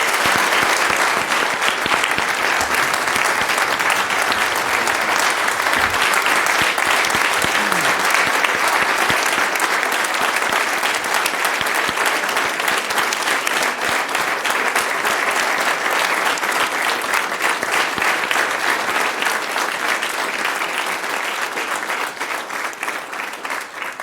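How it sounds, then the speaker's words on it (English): An audience at a city council meeting applauds: sustained, dense clapping that holds steady throughout and thins slightly toward the end. "let's give a warm round of applause for Mayor O'Neill and Councilman Avery"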